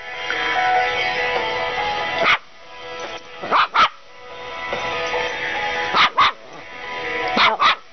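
A Pomeranian barks in short sharp bursts, some doubled, close by, between stretches of whining and whimpering, with a voice faintly underneath.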